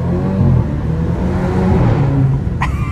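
An Alfa Romeo Giulia accelerates hard through a tunnel with a window rolled down, its engine giving a loud, droning growl that rises steadily and echoes close by, with a brief sharp burst near the end.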